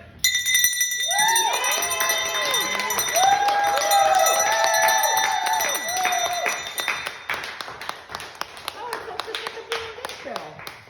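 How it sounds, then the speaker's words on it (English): A hand bell rings out at a graduation ceremony at Blind Inc., its clear repeated tones set against a room of clapping and cheering, with voices talking throughout. "So I want you to ring this bell loud and proud, sir, for all of your hard work."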